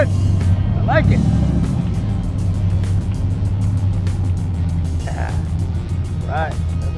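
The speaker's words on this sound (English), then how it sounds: "Like a street racing truck. Sounding good." A street-racing-style truck engine at an outdoor car show, a steady low rumble with a couple of brief revs, while people talk over it throughout.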